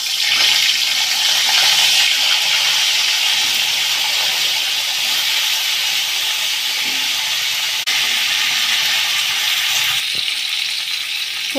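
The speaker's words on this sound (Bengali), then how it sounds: "এবার আমি ফুলকপিটাকে ভেজে নেব এই তেলে।" Cauliflower pieces fry in hot oil in a pan, a steady, loud, close sizzle with a bright hiss that runs without a break for about twelve seconds, with no talking over it.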